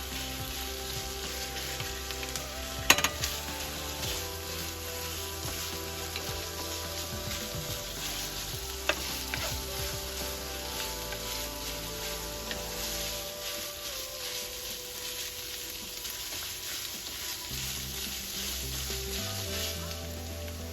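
Ground pork sizzles and fries in a pan, a continuous bright crackle with a few sharp clinks and stirring knocks mixed in.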